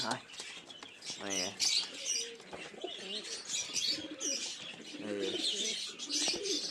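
Kaldoma pigeons cooing up close, soft repeated throaty coos with faint chirps and some wing flutter, while a person talks over them.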